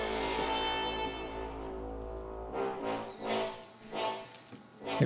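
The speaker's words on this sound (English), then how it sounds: "Giant crickets." Giant crickets chirping at night in the insect strategy game Empires of the Undergrowth, a sustained tonal drone with buzzing chirps that gives way to intermittent swelling insect calls and rustling game sounds.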